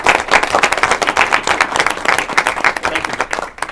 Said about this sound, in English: We should give you a round of applause.